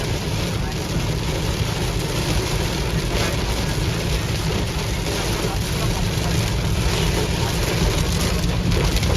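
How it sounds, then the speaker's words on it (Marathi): Heavy monsoon rain near Lonavala, a dense, steady roar of downpour that stays loud and unbroken throughout, with a low rumble running underneath. "खूप जोरात पाऊस येतोय"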